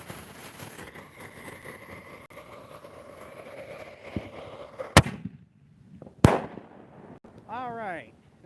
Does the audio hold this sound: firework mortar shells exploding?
yes